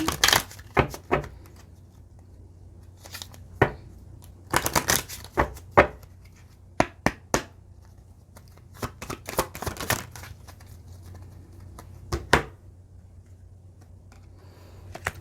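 Oracle cards shuffled by hand in a quiet room, a series of sharp, irregular riffling flicks and taps in short bursts across the stretch, close and clear with no talk.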